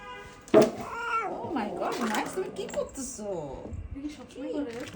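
A cat at a pet clinic meows and yowls after a vaccination injection, several drawn-out cries heard up close with people talking over them.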